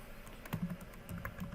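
Computer keyboard typed on during a programming lesson as a print command is entered, a short run of soft, close key clicks in quick irregular bursts.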